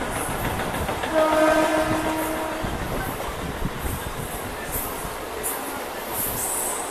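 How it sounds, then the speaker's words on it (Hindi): A Mumbai local fast train rushes past close by, loud and rumbling with clattering wheels, while a horn-like tone sounds briefly early on before the roar slowly fades. "ये फास्ट ट्रेन तो लोकल वाले है ही है यार मस्त"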